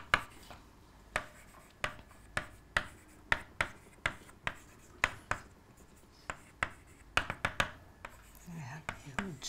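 A lecturer writes mathematical equations on a board, making a series of sharp, close taps and scratches in an uneven rhythm, with quiet speech between the strokes.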